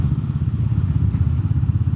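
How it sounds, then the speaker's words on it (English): Royal Enfield Meteor 350 Aurora motorcycle running on its single-cylinder engine, a loud, close, steady low thumping exhaust beat with a rapid pulsing rhythm and mechanical clatter, no voices. "The single cylinder makes a nice noise in combination with the exhaust."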